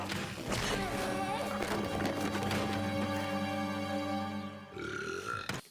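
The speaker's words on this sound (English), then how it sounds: "that burping Min in Rose" A long, loud, drawn-out burp from a Doctor Who TV episode, with a rough, tonal rumble filling most of the clip, ending with a short trailing grunt.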